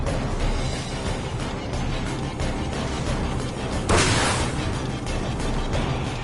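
A particle explosion in the mech game Project Nimbus: Code Mirai, a loud sustained roar of blasts and rumble with one sharper burst standing out midway, no talk.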